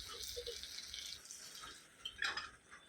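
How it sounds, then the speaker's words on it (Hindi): Water splashes and trickles into a pan of stuffed brinjal curry cooking on the stove, a steady faint pouring with small drips, no talk over it. "तो आधा कप पानी डालिए टोटल इसके अंदर"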